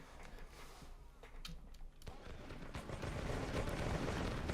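Cannon and musket fire from a Seven Years' War battle in the Kriegsspiel video game, with repeated booms and crackling volleys that build into a dense, continuous battle roar.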